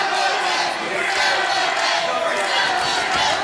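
A wrestling crowd at a live indoor show roars and cheers for Kid Ransom, a loud, sustained wall of shouting and yelling with no breaks.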